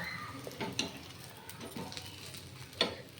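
Egg toast fries in a pan with a continuous light sizzle, punctuated by a few sharp clicks and scrapes of a utensil against the pan.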